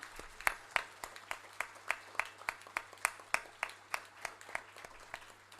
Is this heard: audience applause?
yes